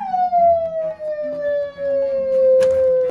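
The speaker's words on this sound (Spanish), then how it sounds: "Ambulancia." An ambulance siren wails in a long, slowly falling tone, loud and near, with a brief clatter partway through and no talk.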